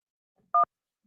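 A single short two-tone telephone beep sounds once, loud and clean against silence, signalling an incoming phone call.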